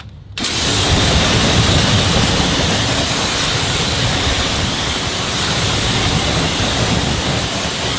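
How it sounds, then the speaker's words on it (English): A hose sprays a steady, loud rush of water over a car wheel, starting abruptly and continuing as a dense, constant hiss with no pauses. "Let's go ahead and rinse this down."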